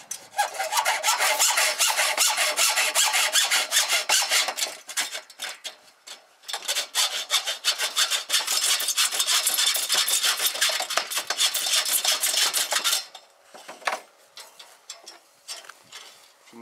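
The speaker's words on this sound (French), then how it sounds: "Coupez votre baguette à l'aide d'une scie à métaux." Hacksaw cutting a metal corner bead for a rendered facade: continuous rapid rasping strokes, loud and close, with a short pause near six seconds and scattered scraping and handling at the end, no talking.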